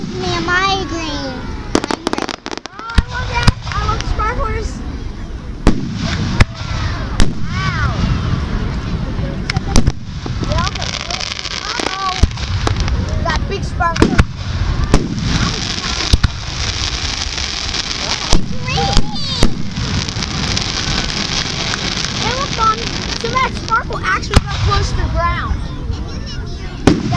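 Booming explosions from a Fourth of July fireworks show in Newtown, repeated loud bangs and crackles throughout, with onlookers talking over them.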